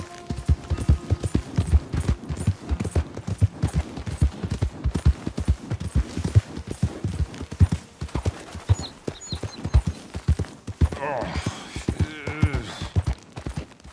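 Horse hooves in the video game Red Dead Redemption 2 clop in a steady, close rhythm throughout, with a brief whinny-like sound near the end.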